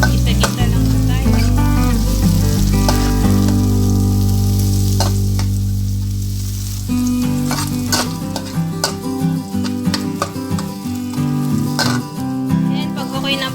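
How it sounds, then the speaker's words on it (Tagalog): Garlic and onion sauté in a pan for chicken pancit canton, a steady close sizzle with low, busy tonal background sounds and scattered clinks and stirring scrapes throughout. "Gisa-gisa lang po tayo."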